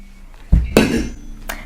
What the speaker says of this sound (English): I just dropped my water bottle